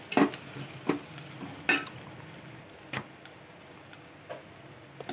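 Ginger paste and turmeric stirred in a pan for a mushroom curry, a faint frying hiss under several separate scraping strokes of a spoon against the pan, close and fairly quiet, with no speech.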